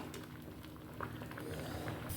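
Coconut oil bubbles quietly in a pan for a tempering of mustard seed and fenugreek, with a soft, constant low seething and faint patter.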